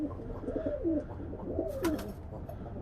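Soft, low cooing of pigeons, several throaty calls overlapping, close and fairly quiet with faint background noise.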